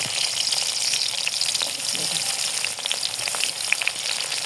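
Onion frying in hot oil for a home-cooked fish curry, giving a steady, close, broadband sizzle that crackles evenly throughout with no talk over it.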